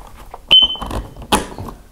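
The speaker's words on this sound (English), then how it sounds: "that beep says, I'm good." A single short, high electronic beep from a Kidde Worry Free smoke alarm rings out sharply, surrounded by a few clicks and handling noises close by.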